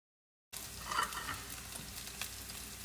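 Tomato paste sautés in retained oil in a pan with a steady soft sizzle and a faint stir or scrape near the start, close and alone after a brief silence.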